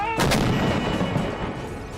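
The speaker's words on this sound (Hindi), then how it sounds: "कैनन चलाते पुतिन" A single heavy boom of cannon fire, sharp onset followed by a rumbling, decaying roar.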